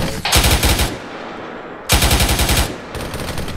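Automatic gunfire during a military field training exercise, two loud sustained bursts of rapid machine-gun fire separated by a short pause, with a third burst starting at the end, close and dominant.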